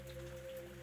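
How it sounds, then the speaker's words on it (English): Rain falls steadily in a soft, even patter, faint and continuous, over a low droning hum with no voices. "The rain still fell."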